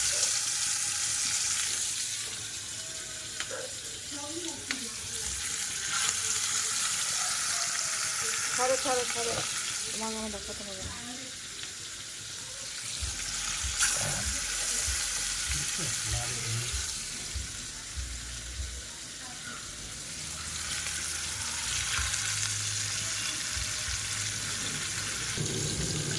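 Fish pieces sizzling in hot mustard oil in a kadai, a loud continuous frying hiss with crackles and occasional clatter, while voices talk briefly over it.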